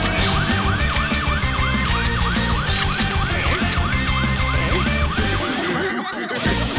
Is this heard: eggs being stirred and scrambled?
no